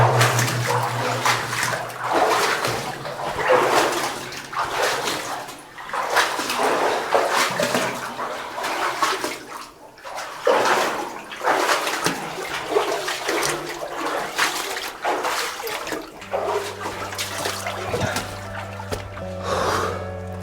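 Water rushes and splashes steadily in a hollow, echoing old gold mine, surging in waves, with a low hum joining near the end.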